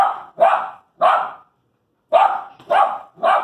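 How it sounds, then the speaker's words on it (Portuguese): A dog barks six times in quick, sharp bursts, close and loud, in two clusters separated by a short pause. "E a Melzinha latindo."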